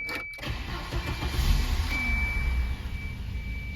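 A car engine cranks and catches with help from a Solvtin jump starter, firing up quickly and settling into a steady idle with a thin high whine, close and fairly quiet.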